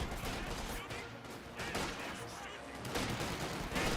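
Dense, steady machine-gun chatter from a .50 cal in the Company of Heroes 2 war game, bursts of fire blending with distant battle noise under a faint voice.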